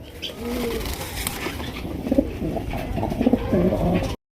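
Black racer pigeons coo softly nearby in short repeated bursts over a low background rumble, growing more frequent toward the end.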